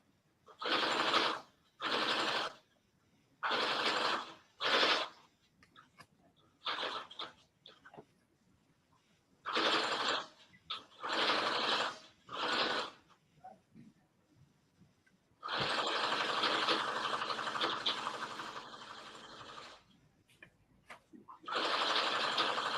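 Sewing machine stitching a cozy ear warmer, running in short whirring bursts separated by pauses, then one longer continuous run and a final burst, close and clear with no talk.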